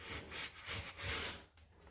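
Quiet rhythmic rubbing and scraping as metal shavings and wax are cleaned off a toilet part during a toilet install, several soft back-and-forth strokes close by.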